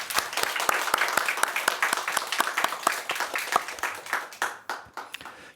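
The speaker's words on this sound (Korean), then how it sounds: "하나님께 영광의 박수를 올려드리겠습니다." A congregation claps in praise to God during a church service, a burst of sharp individual handclaps that thins out and fades toward the end.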